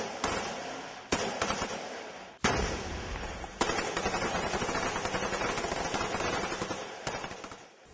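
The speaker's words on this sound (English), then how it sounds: "Flares light up the area, and the soldiers open up with their INSAS rifles." Sustained rifle fire from Indian Army soldiers with INSAS rifles at a jungle warfare school under flares, rapid bursts and single shots crackling loud and close, with a brief pause then continuous firing to the end.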